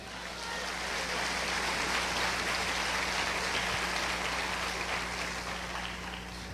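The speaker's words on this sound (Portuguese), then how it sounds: "Aplauda Jesus." Sustained applause from a church congregation fills the space, a dense, even patter of clapping that swells slightly and holds with a low hum beneath.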